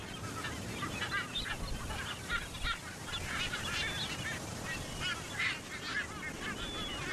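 Dense colony of Ascension Island frigatebirds on a tiny offshore island, with many overlapping honking and chattering calls from near and far over steady wind and surf noise.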